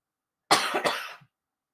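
A quick burst of two or three harsh coughs from one person, close to the microphone, surrounded by silence.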